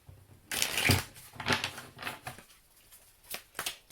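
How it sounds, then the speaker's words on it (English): Tarot cards are shuffled in several quick, papery riffling bursts with short pauses between, close and fairly loud, with no talking. "First things first, do a quick tarot shuffle."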